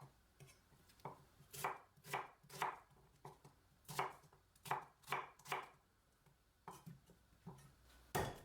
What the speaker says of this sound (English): Finely chop 1 onion,